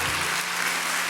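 Congregation applauding during a Sunday church worship service, a brief, even wash of many clapping hands with a faint low hum beneath, continuous and fairly soft.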